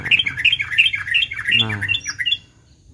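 Young sogon birds near a house call in rapid, repeated high chirps and squawks, close and loud, with a brief spoken word mixed in before the calls stop abruptly.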